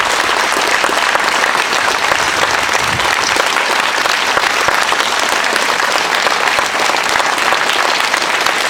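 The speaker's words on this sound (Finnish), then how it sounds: "Isot aplodit, mahtavaa meininkiä." Loud, dense applause from a concert crowd at an outdoor summer venue in Paimio, Finland, after a pop artist and his orchestra, a steady unbroken roar of clapping that holds at full strength from start to finish.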